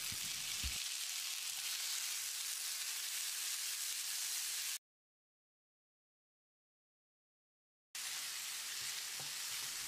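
Two medium-size chopped tomatoes frying in a pan over softened onions for Tamil brinjal curry, a steady close hiss and sizzle broken by a silent gap midway.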